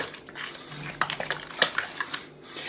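A spoon clinks and scrapes against a bowl while stirring injera batter, with irregular light taps and clatters close by, no voices.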